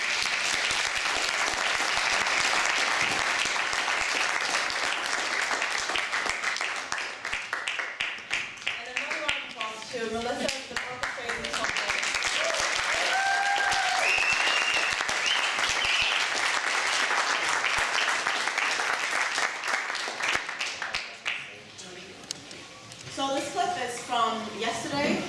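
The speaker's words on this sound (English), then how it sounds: "Can we give another round of applause for those?" An audience at a press freedom event in London applauds, sustained clapping that swells and fades over about twenty-five seconds, with a brief lull midway and a few voices mixed in near the end.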